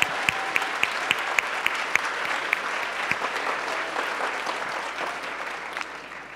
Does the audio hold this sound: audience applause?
yes